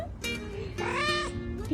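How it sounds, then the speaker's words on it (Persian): A male cat meows close up, a drawn-out tonal cry rising and falling, with someone speaking softly around it. "سلام گربه نره."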